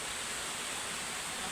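Taginis Falls in Moalboal roars as a steady, dense rush of falling water, loud and continuous throughout with no break or voices.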